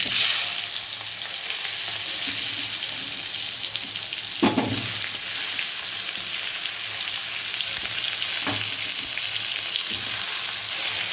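Potato and eggplant pieces fry in oil tempered with nigella seeds, a steady close sizzle with a couple of sharp bursts as pieces hit the pan, no talking.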